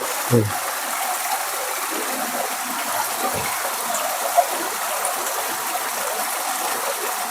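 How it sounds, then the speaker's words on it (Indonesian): A clear river flows steadily with a continuous close rushing wash, with a couple of faint brief bumps and no speech over the water. "Ini saya menemani Mbak Mintul di sini di sungai. Airnya jernih sekali."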